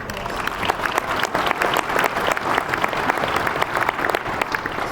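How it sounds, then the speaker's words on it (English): A round of applause from a large audience at a corporate event, loud continuous clapping throughout with a crowded, even texture. "Give yourself a round of applause"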